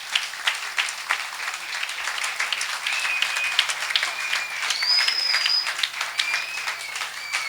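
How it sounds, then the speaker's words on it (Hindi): Church congregation at a 10th anniversary cake-cutting celebration claps loudly for their pastor, a lively, uneven burst of many hands with a few cheers and whistles rising midway, no speech over it. "क्यों ना अपने पास्टर को जोरदार ताली बजाए।"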